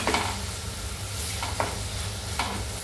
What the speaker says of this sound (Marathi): चांगलं परतून घेऊया जेणेकरून कांदा आणि टोमॅटो असं मऊ शिजलं पाहिजे